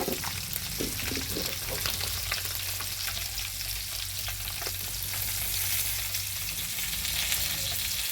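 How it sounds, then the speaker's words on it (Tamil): Masala-coated sardines frying in hot oil in a pan, giving a dense, close, continuous sizzle and crackle over a faint low hum, with nobody talking. "நல்லா அழகாக பொரிஞ்சிருக்கு."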